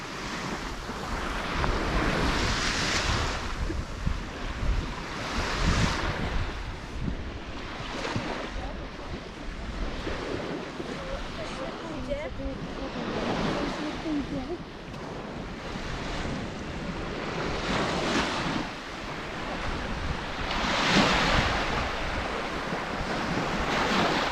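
Baltic Sea waves wash onto the shore in repeated surges while strong wind buffets the microphone, a loud, continuous roar that swells and falls.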